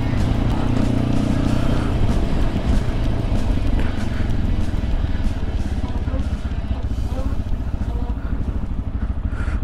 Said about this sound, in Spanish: Maldita moto, está sonando